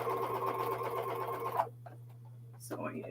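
Sewing machine stitching jelly roll quilt strips, a steady close mechanical hum that runs for about a second and a half, then stops, leaving quiet handling noises and a brief clatter.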